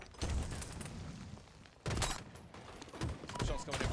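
Bursts of gunfire in a Halo Infinite esports match crackle in clustered volleys with a short lull between them, under excited commentator talk.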